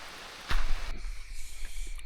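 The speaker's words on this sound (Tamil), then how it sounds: "இப்போ தான் ரீச் ஆனோம், அதுக்குள்ளே அகைன் மழை ஸ்டார்ட் ஆயிடுச்சு." Monsoon rain falls at a resort in the Chikmagalur coffee estates in Karnataka, a steady close hiss of drops with a sharp knock partway through and a low rumble beneath.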